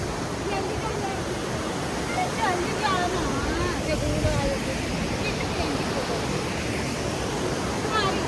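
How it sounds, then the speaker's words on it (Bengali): Dassam Falls near Ranchi roars as a dense, constant rush of falling water that fills the scene, while people talk faintly beneath the noise. "সত্যি কথা বলতে প্রচুর আওয়াজ হচ্ছিল জলের"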